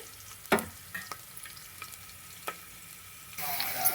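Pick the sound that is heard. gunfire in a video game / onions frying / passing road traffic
onions frying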